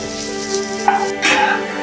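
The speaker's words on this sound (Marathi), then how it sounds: "कांदा भाजताना थोडंसं तेल आणि मीठ टाकायचं" Onion roasting in a little oil with salt in a pan makes a loud, close, continuous sizzle, with a scrape or two of stirring partway through and no talking.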